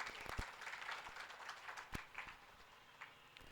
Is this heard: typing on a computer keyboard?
no